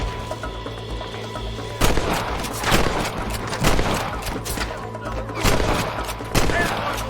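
Gunfire rings out in Red Dead Redemption, with several sharp, loud shots spaced irregularly over steady background noise and faint voices in the mix.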